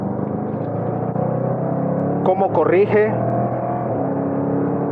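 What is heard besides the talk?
Jaguar F-PACE SVR V8 engine and exhaust accelerating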